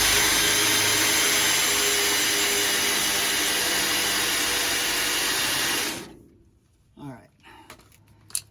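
A loud, steady drill with dull bits grinds into metal for exhaust cutouts on a 1967-72 Chevrolet C10 for about six seconds, then cuts off, leaving a few faint knocks and handling sounds.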